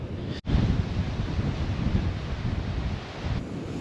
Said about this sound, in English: The wind changed direction and brought all the waterfall water over us.